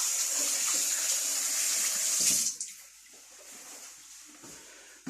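Tap water runs steadily while hands get a quick wash at a kitchen sink during burger preparation, a loud, hissing stream that stops abruptly partway through, leaving faint clatter behind.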